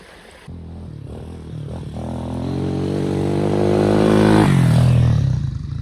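A Honda Hawk 250 motorcycle ridden on a hot day, its engine note rising steadily as it accelerates and holding loud and close, with wind and road noise, no talking.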